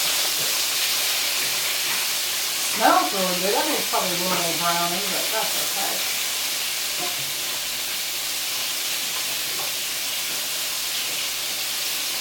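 Chicken livers frying in a pan, a steady bright sizzling hiss that runs the whole time, with a person talking briefly over it near the start.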